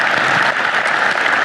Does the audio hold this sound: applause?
yes